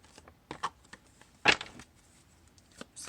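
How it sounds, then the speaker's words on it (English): Tarot cards being shuffled by hand in quick, uneven bursts of papery riffling and flicks, with one louder snap in the middle, close and alone. "I cannot shuffle today"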